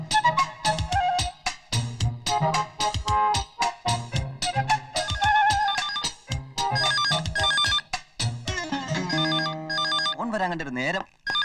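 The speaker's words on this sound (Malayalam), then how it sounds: "ഫോൺ വരാൻ കണ്ടൊരു നേരം." A phone rings with a repeating melodic electronic ringtone, loud and near, continuing steadily throughout.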